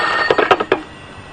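A telephone rings in a Spanish radio drama: a quick series of short, bright bell pulses packed into under a second, fairly loud and close, then it goes quiet.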